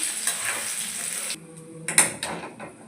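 Eggplant pieces frying in oil, a dense hissing sizzle that suddenly thins as the pan is disturbed, followed by a few scraping clicks as the pieces are lifted out, close and without speech.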